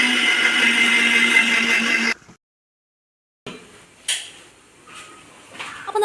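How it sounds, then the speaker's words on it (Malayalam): A kitchen mixer grinder whirs loudly as it grinds roasted coconut with water, stops abruptly, then after a silent gap come scattered clicks and handling knocks of the jar. "അപ്പോൾ ഇനി നമുക്കത് അരയ്ക്കാൻ വേണ്ടിയിട്ട് മിക്സിയുടെ ജാറിൽ ഇട്ടിട്ടുണ്ട്."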